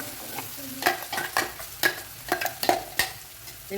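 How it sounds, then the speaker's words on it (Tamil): Masala paste for potato gravy sizzles and crackles in hot oil while a spoon stirs and scrapes the pan in uneven bursts. "இந்த ஆயிலே நல்லா ஃப்ரை பண்ணி விட்டுருக்கோம் மசாலாவை."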